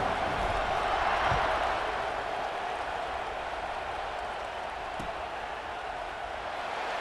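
A stadium crowd in the college football video game EA Sports College Football 26 roars in a steady, dense wash of noise, holding at an even level for the whole stretch with faint commentary underneath.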